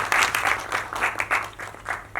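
At a film trailer launch, a modest crowd claps for producers called to the stage: uneven, moderately quiet bursts of handclaps that rise and dip in waves.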